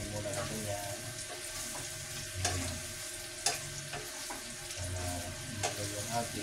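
Fried tofu stirred into a pan with garlic and onion, sizzling steadily with scraping stirs and occasional clinks from a spoon, and some running water in the background.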